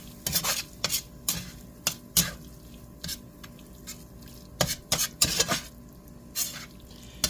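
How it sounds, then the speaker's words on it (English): A spoon stirs flour into a hot pan while making potatoes au gratin, giving repeated scraping and clinking strokes against the metal in uneven bursts over a faint steady hum. "while you stir this flour in there"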